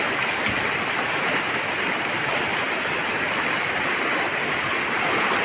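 Heavy floodwater after torrential rain rushing over a road-level culvert in the Datha area, a dense, steady, close roar with no voices.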